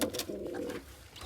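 Pigeons cooing close by, a short soft throaty coo with a brief bird call at the end, no one speaking.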